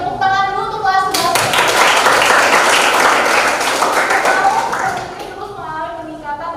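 Class 11 students clap their hands in a school classroom, a dense burst of applause that starts after a second of talk, stays loud for about four seconds, then thins out as a voice resumes.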